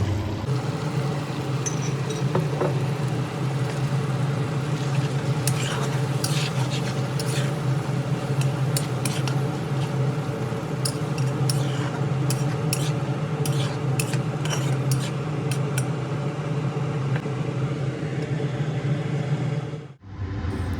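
Curry spices for a rohu fish curry with pumpkin and beans being stirred in a pan with a little water, steady scraping and clinking of a utensil against the pan over a constant low hum, ending with a brief dip as a lid goes on.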